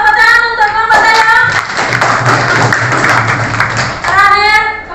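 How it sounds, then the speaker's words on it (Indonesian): Children clap together for a group in a classroom, a burst of rhythmic hand claps between stretches of a woman's sung or chanted speech at the start and end. "tepuk tangan untuk kelompok Tayo"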